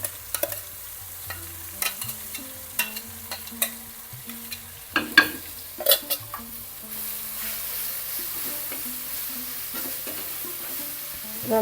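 Crushed onion, garlic, ginger and masala for a prawn dish fry in oil, a low continuous sizzle punctuated by occasional spatula scrapes and knocks against the pan, close and alone.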